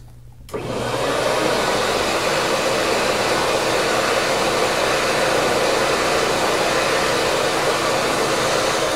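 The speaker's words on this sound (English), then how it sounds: "Vacuum as much of the powder up loose as you possibly can." A vacuum cleaner switches on and sucks loose powder from a carpet with a loud, steady whooshing roar that holds unbroken to the end.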